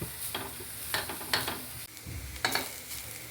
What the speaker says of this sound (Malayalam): ഇനി ഇത് നന്നായിട്ടൊന്ന് വഴറ്റി ഇനി എണ്ണയൊന്നും വേണ്ട ഇതിൽ കടന്നിട്ട് നന്നായിട്ടൊന്ന് വഴറ്റിയെടുക്കണം